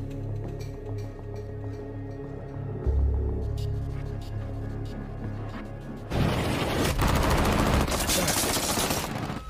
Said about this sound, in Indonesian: Tembakan itu berhasil mengalihkan perhatian Brandon dan ayahnya